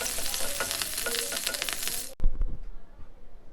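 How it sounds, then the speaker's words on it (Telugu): Green chillies and curry leaves frying in hot oil: a loud, crackling sizzle for about two seconds, then a sudden drop to a quieter, duller frying sound, with a voice briefly audible. "ఈ పచ్చిమిర్చి కొంచెం ఫ్రై అయిన తర్వాత ఇందులో కరివేపాకు వేసుకోవాలి"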